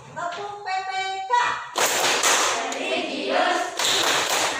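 A school class performs the Tepuk PPK rhythmic clapping chant, a chorus of voices followed by several bursts of group hand claps in a patterned rhythm, fairly close.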